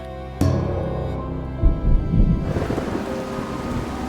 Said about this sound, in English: How long do you think it'll be until the storm passes?